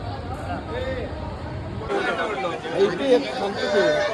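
A dense crowd at Tirupati Balaji temple, overlapping voices forming a constant babble that thickens and grows louder partway through, with some nearer talkers standing out above the hubbub.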